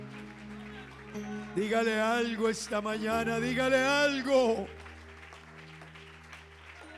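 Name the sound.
congregation applauding in church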